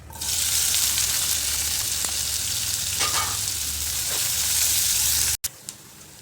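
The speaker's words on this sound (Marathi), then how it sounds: "जिरं तडतडलं की घालायचं आहे कांदा" Chopped onion goes into hot oil with crackling cumin seeds in a wok-style kadhai, making a loud, steady sizzle that fills almost the whole stretch before stopping abruptly near the end.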